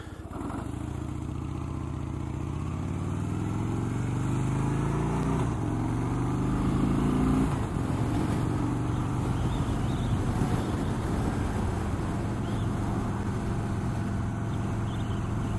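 A Harley Davidson Street Bob motorcycle accelerates from a stop, its V-twin engine rumbling loud and close as the pitch climbs through the gears, with a steady wind-rushed drone while riding.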